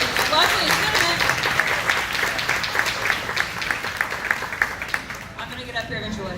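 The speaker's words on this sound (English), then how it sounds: "let's give that one a big round of applause" Audience applause at a Power Rangers panel at a county comic convention, a crowd clapping steadily and fairly loud, thinning into scattered individual claps toward the end.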